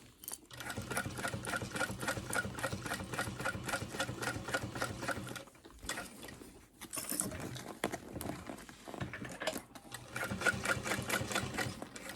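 A sewing machine stitches a backpack seam near the straps in rapid, even bursts of needle strokes. There is a brief pause midway, then stitching resumes close by and steady until the end.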